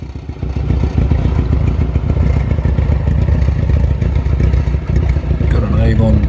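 A 1976 Australian-delivered Kawasaki Z900 motorcycle idles loud and close after startup, its engine chugging with a steady, rough, clattery beat through baffled pipes.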